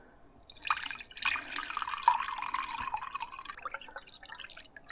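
Water poured into a cup outdoors at a forest homestead in Sweden, a steady splashing trickle that starts after half a second and runs on for several seconds before tapering, close and fairly quiet.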